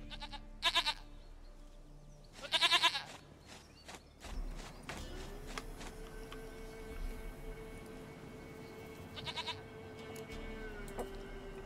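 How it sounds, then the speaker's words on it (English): Goats bleat in The Witcher 3, with a few short, nasal calls close by in two quick bursts and a later one, amid quiet ambient game sounds and hoof-like clatter. "There's your dumb goat."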